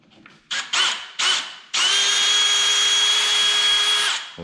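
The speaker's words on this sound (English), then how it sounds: "so I'm reaming it down to this nut here" A power drill reams out a hole in the spigot of a homemade carp-fishing baiting pole, first in several short whirring bursts, then in one long steady high-pitched run before stopping.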